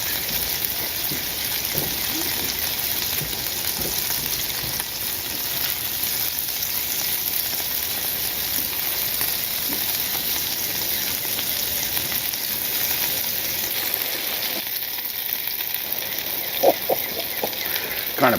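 Cheeseburgers with melting cheese sizzle steadily on a Blackstone E-Series 17 electric tabletop griddle with a hood, a continuous close frying hiss with a few faint clicks and scrapes near the end.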